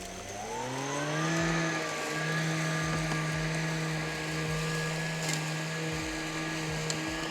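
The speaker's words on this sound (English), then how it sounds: "Lawnmower starting now." A Lymo One robotic tank lawnmower's small electric motor whirs up from rest, its pitch rising and then holding steady as a smooth, close mechanical hum with faint clicks.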